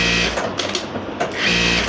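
A Juki DDL-8700A-7 industrial sewing machine runs its thread trimmer, giving short mechanical whirring and clicking bursts up close, loud and without speech.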